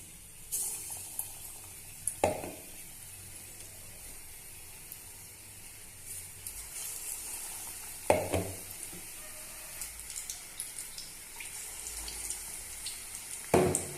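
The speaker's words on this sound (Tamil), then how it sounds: "இப்போ நம்ம மிளகாய் எடுத்து நல்லா நனைச்சிட்டு பஜ்ஜி போட்டுக்கலாம்." Batter-coated chili bajji fritters deep frying in oil, a soft continuous sizzle at close range with a few sharp utensil clinks and some brief bubbling bursts, no voices.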